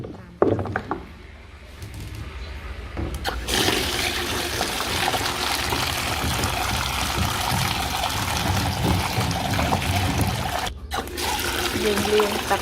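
Water pours steadily into a bowl to soak vegetables for a second rinse after a flour-water wash, while cooking steamed salted fish with minced pork. A continuous rushing trickle runs close by for most of the clip, with brief handling knocks at the start.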